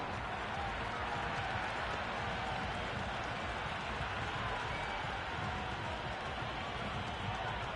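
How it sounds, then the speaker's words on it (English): A large crowd in a cricket video game roars and cheers continuously, a dense, steady wash of noise that holds at the same level throughout with no clear pauses. "The crowd are really getting quite raucous."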